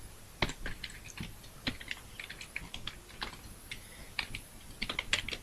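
Rapid typing on a computer keyboard while writing C code, with irregular bursts of crisp key clicks and taps, close and clear, with no voice.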